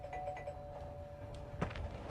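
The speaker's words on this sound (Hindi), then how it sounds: "डोरबेल हुई" A doorbell rings inside a home early in the morning, a faint electronic chime with a steady tone against quiet room noise, followed near the end by a brighter second chime.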